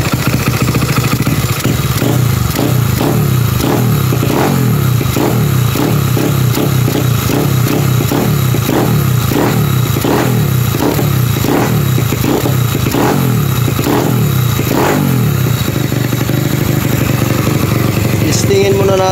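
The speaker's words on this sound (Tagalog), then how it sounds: "Nangalawang crank, umandar agad." Motorcycle engine with a newly installed carburetor idling loud and close, rising and falling in repeated quick revs over a steady chugging rumble.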